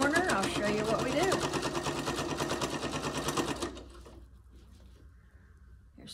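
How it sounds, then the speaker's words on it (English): A sewing machine stitches binding onto a fabric hot pad, a fast, even, close mechanical chatter under a speaking voice, then it stops abruptly, leaving a quiet room with faint background noise. "And you're just gonna start sewing it down."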